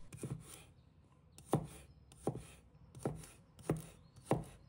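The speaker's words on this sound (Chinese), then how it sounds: "再准备1把大蒜，把它切成小块。" A kitchen knife chops garlic into small pieces on a wooden board, with six sharp, evenly spaced thuds close by and no talking.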